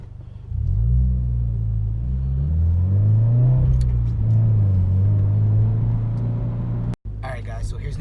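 A 2018 Subaru BRZ driven roughly, its engine revving and rising and falling in pitch as it accelerates, loud and close from inside, with a sudden cut-off near the end.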